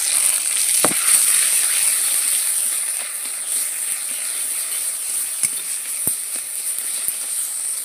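Ground pointed gourd peel paste fries in hot oil tempered with nigella seeds and dried chilli, giving a steady close bright sizzle with a few faint pops and clicks.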